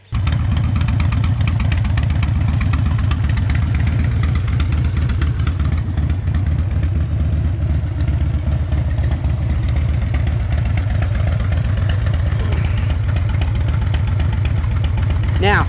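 Harley-Davidson Evolution V-twin motorcycle engine idling steadily, a loud, continuous low throb with a lumpy rhythm that persists for the whole stretch, with talk running over it.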